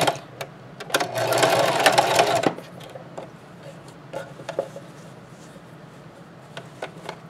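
A sewing machine stitches a seam close to the edge of a two-color fabric scrub cap, with a short loud burst of running stitches up front, then quiet handling clicks and faint rustles.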